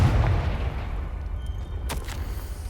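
A Confringo explosion spell cast in Hogwarts Legacy, a single deep boom with a rumbling low tail and a sharp crackle near the end, with no talk.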